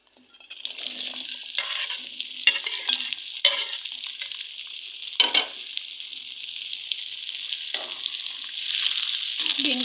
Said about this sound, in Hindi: भिंडी को हमने फ्राई कर लेना है।